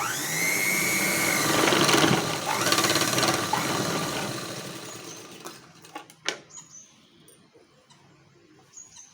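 Sewing machine running steadily while stitching piping cloth, a loud continuous mechanical whir for about five seconds, then slowing into scattered clicks and taps.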